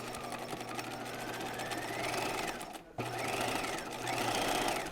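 Close, continuous whirring of a sewing machine stitching a dart at a 2.5 mm stitch length on a raglan top, with one brief stop midway before the motor resumes.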